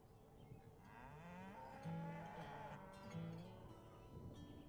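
Cattle low repeatedly on a ranch, several drawn-out moos rising and falling at a moderate distance over a steady background hum, with no talking.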